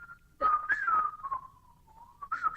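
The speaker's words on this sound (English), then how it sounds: "It's the Peter Pan whistle" A person whistles the Peter Pan whistle, a clear wavering tune that slides up and down, close and moderately loud, with a pause before resuming at the end.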